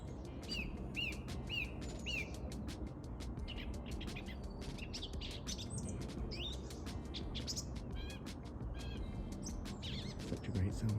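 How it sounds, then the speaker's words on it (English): A song thrush in autumn countryside in Surrey, singing bright, repeated chirping phrases at a fair distance over a low, steady background rumble. "They say you can always recognise a song thrush because it just repeats itself over and over again."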